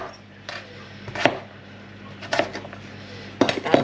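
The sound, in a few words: knife chopping swede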